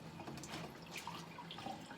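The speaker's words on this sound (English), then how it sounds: "So I guess what I would do beforehand is fill up" Clean water runs from a tap into a glass, a soft continuous trickle with faint splashy variations, fairly quiet and heard alone without speech.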